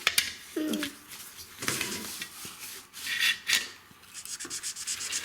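Repeated scratchy rubbing strokes of a Twinmarker marker dragging across paper while coloring butterflies, close and uneven, with short pauses between bursts.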